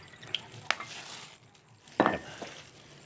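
Chicken is tossed and mixed with seasoning in a bowl, with soft stirring and a few sharp clinks of a utensil against the dish.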